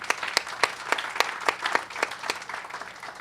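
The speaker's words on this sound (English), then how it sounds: "Steve Traeger and Republic Bank Foundation, give him another round of applause for that." A small crowd applauds, with sharp individual claps standing out over a steady patter that gradually thins.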